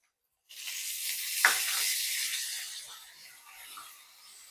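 Chopped tomatoes and coriander stalks dropped onto fried onions in a pan for red sauce pasta, bursting into a sudden close sizzle that hisses steadily and slowly fades over a few seconds.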